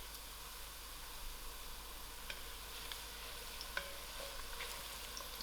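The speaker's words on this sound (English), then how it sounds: "Leave this to fry." Browned onions with a cinnamon stick and bay leaf fry quietly in a pot for mixed vegetable curry, a soft even sizzle with a few faint ticks and pops.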